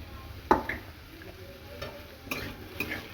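Ginger paste and green chilli paste being stirred and fried in a cooking pan, a quiet sizzle broken by a few sharp clinks and scrapes of the spoon against the pan.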